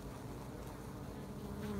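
Honey bees buzz steadily at a hive entrance in an apiary, a dense, continuous drone of many insects close by, with no voices.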